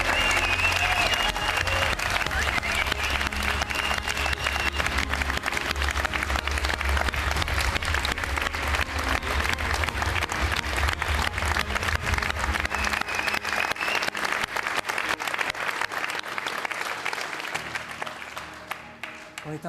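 Audience applause at the Vendée Globe prize ceremony, dense sustained clapping from a large crowd that carries on loudly before thinning and fading toward the end.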